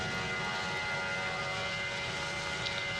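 A steady, loud airplane engine drone rises from an aircraft taking off in the Roblox flight game PTFS. It holds constant for the whole stretch with no talking.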